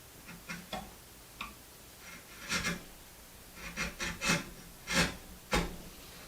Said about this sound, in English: That's end grain oak I'm cutting there